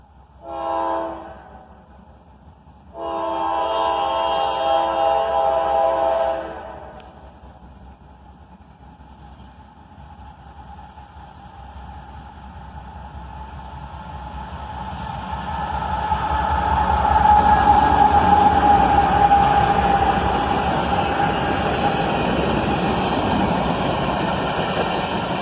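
Pair of CSX AC44CW locomotives leading a southbound tanker train, sounding two loud horn blasts, then the rumble of the approaching train building steadily with a long sustained horn and rolling rail noise.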